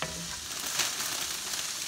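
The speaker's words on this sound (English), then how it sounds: "So I need this to cook down for maybe 2 or 3 minutes, just so the mushrooms can soften up just a bit" Mushrooms cooking down in a pan for a creamed spinach dish with salmon, giving a steady, close frying sizzle with a brief stir in the middle and no talking.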